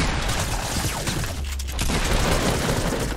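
Dense, continuous automatic gunfire sprays in the video game Fortnite, a loud, unbroken rattle lasting about three seconds with no speech.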